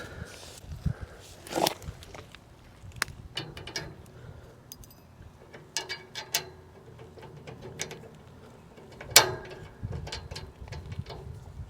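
Mechanical clanks, clicks and ratcheting from fitting the drive line on a Woodland Mills WC68 wood chipper, scattered irregular knocks with one louder clunk near the end, fairly close, no talking.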